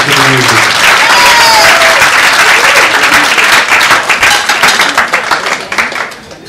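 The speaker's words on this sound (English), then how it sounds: "I want everybody to have a round of applause for the music." Wedding guests give the band a loud, sustained round of applause, a dense wash of clapping from a crowd that stays strong for several seconds and then thins out and fades toward the end.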